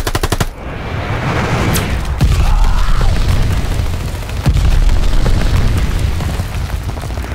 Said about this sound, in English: Enemy's got a glide bomb incoming.